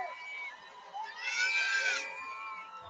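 Crowd screaming and cheering at an outdoor march for children in Dieppe Gardens, Windsor, Ontario, a fairly distant mass of voices that swells into a louder shout midway.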